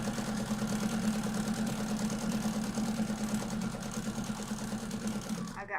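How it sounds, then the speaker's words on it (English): An electric fan runs steadily indoors in a sewing room, a continuous whirring drone with a low hum that holds level throughout before cutting off at the end; faint voice traces may sit beneath it. "I've got my fan on"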